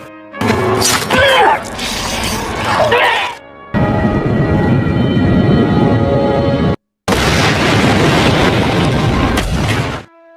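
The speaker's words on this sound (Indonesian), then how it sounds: "meledak bersama helikopter tempat itu" A helicopter explodes in an action-film scene: loud booming blasts and shattering debris, with a sustained roaring rumble and cut-off edits between bursts, cinematic and dense.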